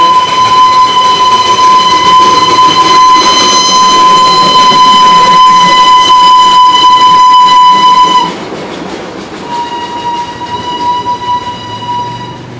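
Darjeeling toy train passing close by, with a loud sustained steady whistle tone and the rumble and clatter of rolling cars for about eight seconds, then a quieter, fainter continued running sound and a second softer whistle.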